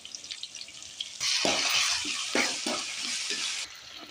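Mustard seeds, onion and curry leaves hitting hot oil in a pan, a sudden bright sizzle that swells and holds with crackling spatters, after a quieter stretch of kitchen clatter.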